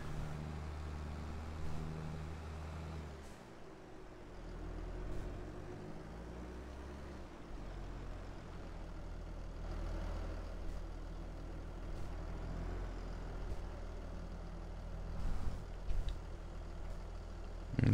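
Farm vehicle driving in Farming Simulator 22 near an old barn, a steady low engine drone that rises and falls slightly in pitch as it runs, moderately loud and uninterrupted, with no talking.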